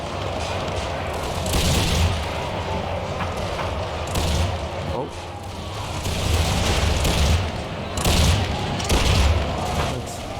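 Massed musket volleys from elite grenadiers fighting at close quarters in and around a house in Empire: Total War, a dense, continuous battle roar with repeated loud bursts and booms swelling every few seconds.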